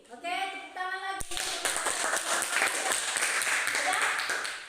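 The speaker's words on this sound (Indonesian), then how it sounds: "Oke, tepuk tangan lagi." A classroom breaks into applause right after a teacher speaks, many hands clapping together in a dense, steady patter that carries on to the end.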